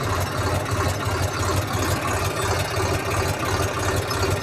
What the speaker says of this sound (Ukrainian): Іду потихеньку, третя понижена на холостих оборотах.